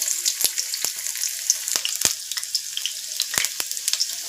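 Potatoes frying in a home kitchen pan with whole spices such as cardamom, cumin and coriander for ghugni, a steady crisp sizzle broken by several sharp clicks and pops, close and fairly loud with no talking.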